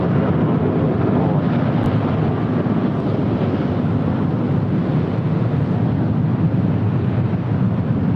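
A heavy Air France airliner on approach to land on runway 24 right at LAX, heard as a steady, loud broadband jet roar with wind buffeting that holds evenly for the whole stretch, with no talk.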